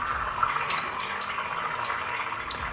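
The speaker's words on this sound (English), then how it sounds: "Turn it on, get the blender going." Blender whirring through a cup of plain tap water, a steady watery churn with splashing and liquid swirl, moderately close and continuous with no voices.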